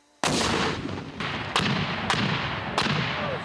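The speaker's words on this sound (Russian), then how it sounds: "бойцы занялись пристрелкой полученного оружия, после чего перешли к стрельбам на точность и скорость" Reservists fire weapons at a shooting range, several sharp, loud reports spaced about a second apart, each followed by a rolling echo that fills the gaps between shots.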